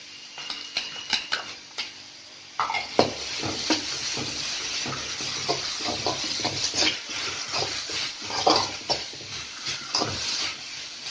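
Finely ground carrot tipped into a pan of onions frying for a chicken roll filling, with a steady sizzle under clattering spatula and utensil clinks against the pan, close and busy throughout.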